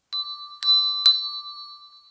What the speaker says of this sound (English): Shall we find our note and our pitched bell?